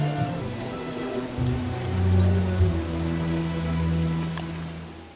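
Steady rain patters in the game Don't Starve, with a low musical drone humming underneath throughout.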